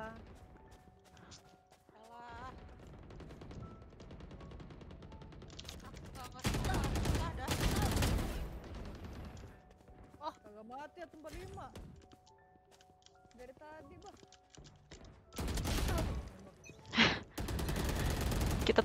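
Bursts of Valorant gunfire, several loud broadband volleys separated by stretches of talk, with sharp single shots and rapid strings clustered near the end.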